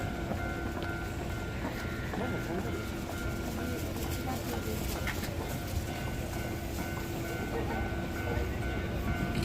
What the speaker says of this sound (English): Okay, got the train.